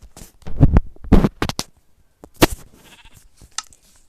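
Several short sheep bleats from Minecraft come in separate bursts with quiet gaps between them, sounding like synthetic game effects.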